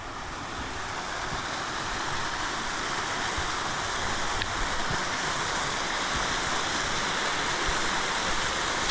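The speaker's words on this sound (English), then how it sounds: "Lovely waterfall." A waterfall roars in a steady, unbroken rush of white noise, loud and constant throughout with no voices.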